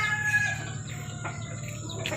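A sick chicken with snot and snoring, congested breathing, which is struggling to eat, makes a brief, faint call against a quiet background.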